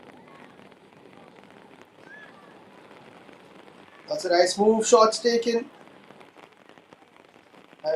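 Steady rain patters across a soccer pitch during a wet, slippery match, a constant hiss heard beneath a commentator's voice, with a louder burst of crowd or player noise midway.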